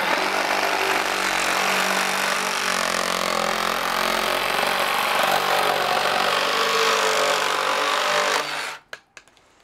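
A power saw cuts a 45-degree angle through a plastic piece for a hydroponic garden tower base, buzzing loud and continuous for about nine seconds before winding down abruptly, followed by a few brief knocks.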